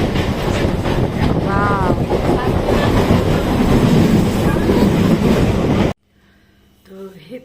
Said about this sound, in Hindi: बारिश बहुत ज़्यादा तेज हो गया है, इतना सुंदर लग रहा है, हवा चल रहा है, बारिश।